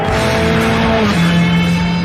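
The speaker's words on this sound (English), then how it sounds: "Now I've got my foot buried into where the carpet used to be, and 510 brake horsepower is roaming around the engine bay." A 510 bhp Ferrari sports car engine roars loud and close under hard acceleration, its tone holding steady, then dropping with a gear change before climbing again.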